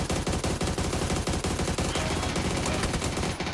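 Rapid automatic gunfire from a rifle in PUBG, with dense bursts repeating across the whole stretch, loud and close, with no talk over it.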